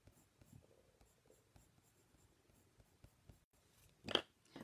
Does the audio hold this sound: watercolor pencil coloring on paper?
yes